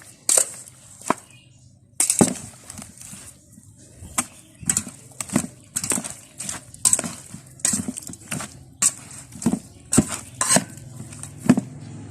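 Pots, dishes and cutlery clatter in a rustic Isan home kitchen while chicken is cooked beside a wood-fired stove, with sharp intermittent clanks and knocks close by, spaced every second or so, and no talking.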